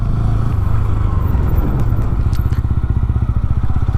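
A TVS Ronin motorcycle riding in third gear at low speed, its engine giving a steady, close, thumping chug with some road clatter throughout.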